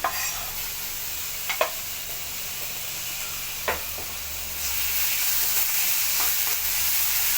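Crushed tomato goes into a hot pan for egg keema, setting off a steady frying sizzle with a few sharp knocks of a utensil against the pan, and the hiss swells louder and fuller toward the end.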